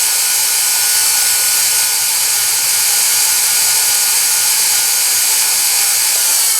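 A white polishing wheel smooths a pin bump on sterling silver: a loud, continuous high whirring hiss from the spinning wheel, close and unbroken throughout with no talking.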